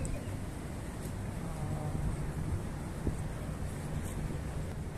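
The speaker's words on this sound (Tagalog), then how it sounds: "Nasa sobrang hangin." Strong wind buffets the microphone outdoors in Doha, Qatar, a steady rumbling roar that stays loud and even throughout.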